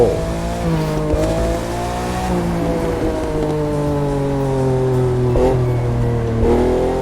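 A Lamborghini Aventador LP700-4 in The Crew 2 revs hard and accelerates, its loud engine note climbing and falling through shifts with a brief tire squeal, close and continuous with no talking.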